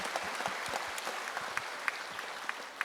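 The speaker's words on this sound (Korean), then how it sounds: "하나님께 영광의 박수 드리겠습니다" Church congregation applauding during a service, a soft, fairly distant patter of many hands with scattered sharper claps, steady for about three seconds with no speech over it.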